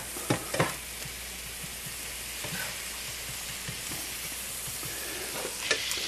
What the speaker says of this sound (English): And just mix it around. Release all the fond up that has been stuck to the bottom.